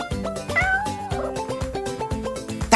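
A person imitates a cat, giving a couple of drawn-out meows alone over a busy background of music with a steady beat.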